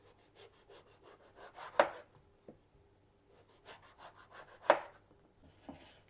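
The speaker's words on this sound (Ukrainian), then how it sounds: "Далі ріжу." A knife slicing food on a cutting board, with soft scraping strokes and two sharp chops standing out, close and fairly quiet, with no talking.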